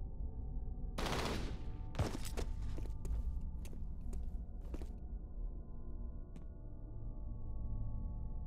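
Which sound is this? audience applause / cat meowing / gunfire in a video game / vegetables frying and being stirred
gunfire in a video game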